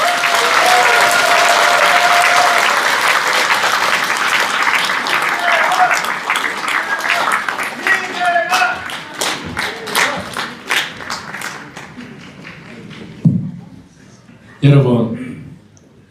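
A packed audience at a Daegu book launch for a former supreme council member claps loudly and steadily, the applause thinning and fading out, followed by a couple of short bursts of voice.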